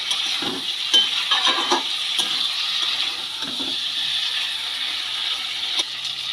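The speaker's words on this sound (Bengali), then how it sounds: "মশলা দিয়ে এঁচুরটাকে খুব ভালো করে কষিয়ে নেবো" Jackfruit stir-fried with spices in a pan for a jackfruit and prawn curry, with steady soft sizzling and scattered scraping and stirring clinks from a utensil against the pan.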